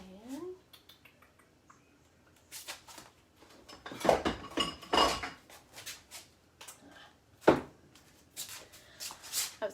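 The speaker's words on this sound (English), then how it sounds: "Let me get a bowl." Dishes clatter and clink as a bowl is taken out, a few sharp ceramic knocks and bursts of rattling around the middle, close by, with a voice speaking briefly at the start.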